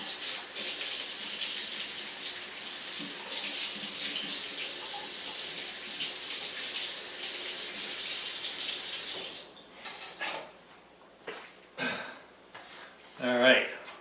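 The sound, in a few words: rinsing a knife under running tap water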